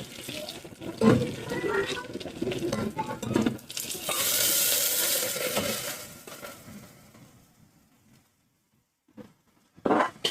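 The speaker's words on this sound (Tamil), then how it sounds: "தேவையான அளவு தண்ணி ஊற்றிக்கோங்க." Water is poured into a pot of chicken curry with chili powder, sending up a loud hissing rush with a sizzling burst, after a few clattering stirs, then everything falls quiet before a short clatter at the end.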